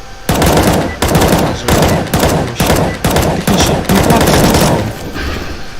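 Loud, close bursts of automatic rifle fire from the CS:GO video game, about eight rapid volleys separated by short gaps, with a brief quieter tail at the end.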